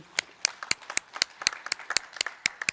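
A small audience gives light, sparse applause at a World Habitat Day celebration, with a handful of distinct, close claps in an uneven rhythm.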